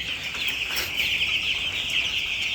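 Chickens clucking in a coop, a continuous busy chorus of overlapping clucks and calls from many birds at close range, steady and fairly loud throughout.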